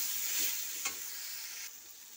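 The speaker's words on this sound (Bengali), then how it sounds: "আমি নাড়াচাড়া করে দিচ্ছি।" Beans sizzle in a kadai while being stirred, a steady bright frying hiss with one soft scrape of the spoon partway through; quiet, no talking.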